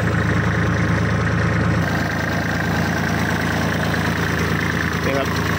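A Kubota 34 horsepower tractor engine idling, a loud steady low diesel rumble with even throbbing, close by, continuing unbroken throughout.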